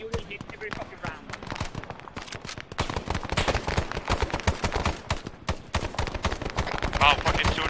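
Gunfire in the military video game Arma 3 as fire support is called in: rapid, crackling bursts of shots repeat steadily throughout, moderately loud, with some voice chat in the background.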